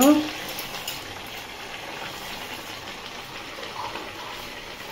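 Bori lentil dumplings frying in a pan in an Odia kitchen, a soft, even crackle and hiss that carries on quietly throughout.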